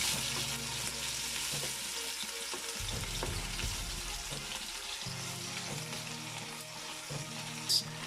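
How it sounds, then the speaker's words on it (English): Steady, loud sizzling of onions frying in hot oil, with occasional stirring and clinking, close up and continuous. "I'm going to just pour the onion into the oil and just let it fry."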